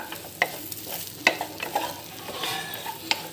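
Chilli chapathi pieces tossed with masala in a hot pan, soft sizzling under a handful of sharp spoon-on-pan clinks and scrapes, close up over a few seconds with no talking.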